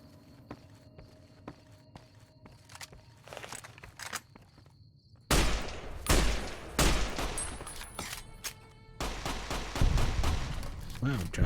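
Gunfire and footsteps in Fallout: New Vegas Honest Hearts: quiet scattered shots and steps at first, then louder, denser bursts of broadband shots in the second half, with no one talking.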